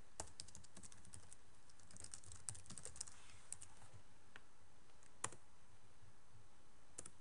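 A link being typed on a computer keyboard: quiet, irregular clicking keystrokes close by, with no talk.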